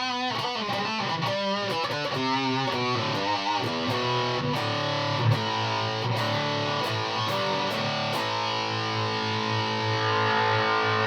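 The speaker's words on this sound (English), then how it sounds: "I suppose I'll try distortion up at full." An electric guitar played through an Electro-Harmonix Micro Metal Muff pedal with the distortion at full, heavily saturated chords struck in quick succession and then left ringing with a thick, sustained fuzz.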